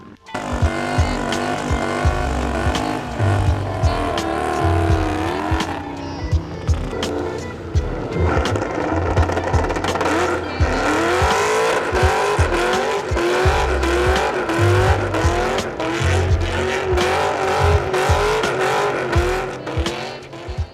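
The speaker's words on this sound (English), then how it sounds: "see who's brave enough to do a successful burnout" A car doing a burnout at a car meet, its engine revving loud and steady with screeching tires throughout, rising and falling in pitch over roughly twenty seconds.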